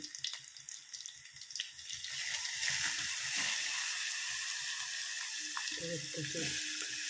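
Bottle gourd peel fries in a pan with a steady broadband sizzle that swells after the first couple of seconds. Faint tonal clinks or stirring sounds sit underneath, and a little background voice is audible near the end.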